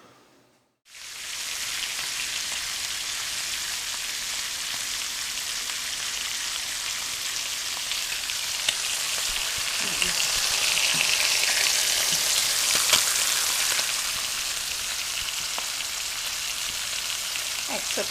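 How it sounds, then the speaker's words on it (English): Bacon fries in a pan, a sudden loud sizzle starting at once and holding a steady, dense crackling hiss throughout, with occasional pops and faint clatters and no talking. "I'm frying up bacon so it'll be crisp."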